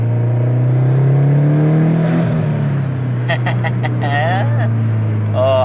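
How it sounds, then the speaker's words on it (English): Turbocharged Subaru STI with a stock-block engine making 457 wheel horsepower, its engine droning steadily under acceleration with a rising whine, while short, chirpy, whistling bursts like turbo flutter come in toward the end. "I just do it just to be able to hear this turbo. It sounds so good"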